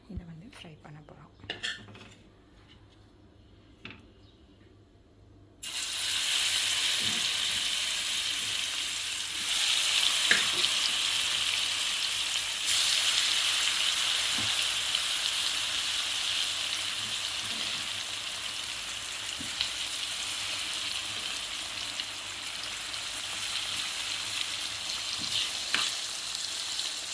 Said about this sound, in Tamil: இப்போ நம்ம இதை ஃப்ரை பண்ண போகிறோம்.